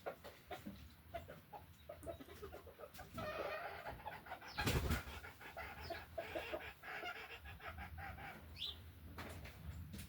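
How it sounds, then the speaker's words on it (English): A backyard rooster next door calls a hen, giving faint, distant clucks and short calls amid outdoor ambience, with a brief louder flutter partway through. "That's that rooster next door calling that hen in."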